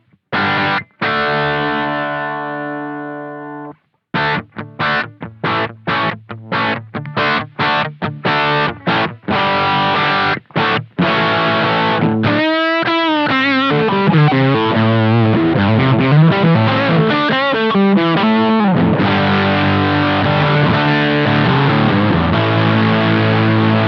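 Electric guitar played through a Hotone Britwind Nano amp on a pedalboard, recorded direct, gives loud distorted chords: stabbed rhythmic hits with short gaps, then bending, wavering sustained lines into steady driving chords.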